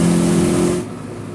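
A 1998 Acura Integra Type R DC2 being driven hard, a loud buzzing engine note that holds steady, then drops off sharply as the throttle lifts.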